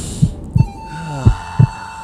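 Heartbeat sound effect: two loud, close double thumps in a slow lub-dub rhythm over a soft hum, with a thin tone in the background.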